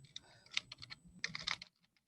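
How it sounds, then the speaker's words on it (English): A computer keyboard typed on in a quick burst of close, crisp key clicks, a brief pause, then a second flurry of keystrokes ending in near silence. "so we can type in Star Wars"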